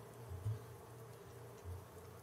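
Bees buzzing in the survival video game Raft, a faint, low, steady hum with a few slightly louder swells.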